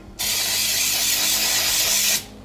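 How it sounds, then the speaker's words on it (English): A single continuous hiss from a can of flour-containing baking spray sprayed into a baking dish for about two seconds, close and steady, then cutting off. "I'm gonna spray it with some baking spray that has like the flour in it."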